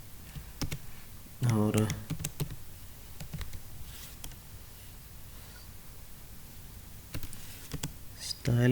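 Computer keyboard typing while CSS code is written, with short bursts of clicking keys between stretches of someone talking in Hindi.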